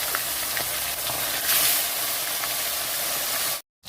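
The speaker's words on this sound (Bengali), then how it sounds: "তো আমি মাছটা ছেড়ে দিচ্ছি। নুন হলুদ তো মাখাই আছে ভাজার জন্য।" Loud, steady sizzle of tilapia fish, coated in salt and turmeric, frying in hot oil, a dense crackling hiss that fills the clip before cutting off abruptly near the end.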